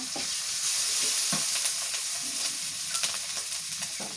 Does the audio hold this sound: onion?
yes